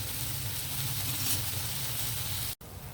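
Chopped tomatoes fry in hot oil in a pan for a vegetable curry. A steady, close sizzle hisses continuously, then cuts out for a split second near the end before resuming.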